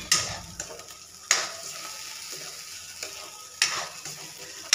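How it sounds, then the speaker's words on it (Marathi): Afghani paneer gravy stirred in a pan, a steady soft sizzle with a spoon scraping through it in a few distinct strokes, close and fairly quiet, with no talking. "ग्रेव्ही ॲड करायची व्यवस्थित आणि हलवून घ्यायला सुरुवात करायची"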